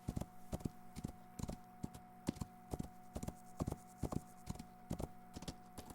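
Horse hooves clip-clop in a steady, repeated rhythm throughout the Rising World video game, loud and close, with a faint constant tone behind them and no talk.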